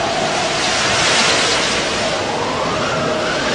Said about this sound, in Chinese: 突然海面发生强烈的暴风雨，船沉了，像山崖似的巨浪几乎要吞没他们